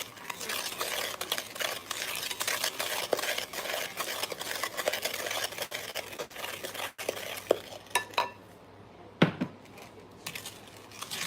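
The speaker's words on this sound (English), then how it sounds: "Just gonna keep stirring this up." Food being stirred in a pot with a utensil, a steady run of scraping, clinking strokes that continues throughout, close and fairly loud, with a couple of sharper knocks near the end.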